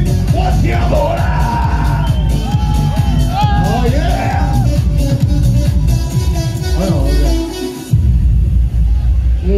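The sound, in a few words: festival crowd cheering and shouting at stage show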